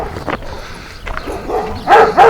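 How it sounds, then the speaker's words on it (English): A dog barks behind a fence along a walking route, a few sharp barks near the end after fainter yips, heard from a short distance over outdoor background noise. "there's dogs all over the place. Gonna bark at us as we go by."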